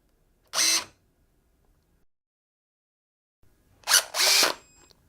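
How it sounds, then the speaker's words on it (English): An NB08PT 18V cordless rivet nut tool setting a fastener gives a single short motor whir, then after a pause a quick pair of close, crisp whirs, with quiet between them. "To trial the new stroke, first we need to set the fastener to the tool."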